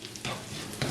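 Torn dried red chillies sauté in hot oil for a Sri Lankan cabbage dal stir fry, a short, soft sizzle with a couple of brief stirring scrapes, close by.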